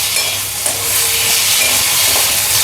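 Eggplant fries with a little turmeric in a pan, giving a loud, continuous close sizzle with occasional stirring scrapes throughout.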